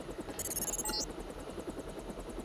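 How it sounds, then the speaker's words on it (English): A helicopter in the game Deus Ex thrums with a steady, fast rotor chop over a low engine drone, loud and continuous, with a short high electronic chirp near the start and no voices. "One presumably long helicopter ride later, we're back in another MJ-12 facility."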